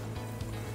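Chopped garlic sizzling in hot olive oil in a pan, a steady soft frying hiss with faint crackles, close and fairly quiet.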